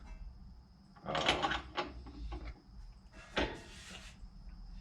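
Sheet metal is bent in a vise for a homemade glass-blowing kiln, making a few separate metallic clanks and scraping bursts with short pauses between them, at close range.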